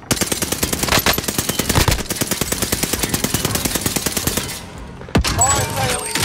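Rapid automatic gunfire in Call of Duty: Modern Warfare, a loud sustained burst of closely spaced shots lasting several seconds, then a brief pause and a sharp resumed blast with ringing game effects.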